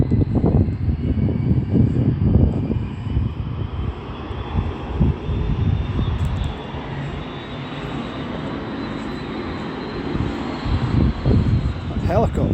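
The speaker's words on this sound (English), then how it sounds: "That helicopter seems a bit close" A helicopter passes close overhead, its loud, broad engine-and-rotor roar holding steady throughout, with a faint high whine riding on top.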